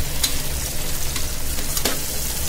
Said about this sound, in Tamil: வெங்காயம் நல்லா பிரவுன் ஆகுற வர வதக்குங்க ஃப்ரெண்ட்ஸ்